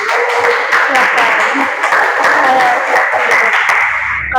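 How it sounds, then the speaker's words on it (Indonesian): Pupils in a classroom clap for a group, a dense, steady round of applause lasting several seconds with voices mixed in before it tapers off. "Sekarang kita beri tepuk tangan untuk kelompoknya Ibnu"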